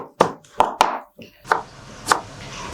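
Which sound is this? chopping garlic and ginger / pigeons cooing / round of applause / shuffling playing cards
chopping garlic and ginger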